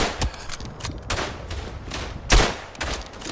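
Rifle and machine-gun fire rattles through a World War I trench battle in the game Verdun, with irregular shots, some close and loud, others farther off, forming a continuous fusillade.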